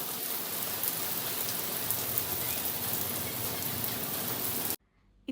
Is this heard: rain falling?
yes